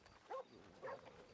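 A dog in a role-play video game gives two short, soft barks about half a second apart over quiet background ambience.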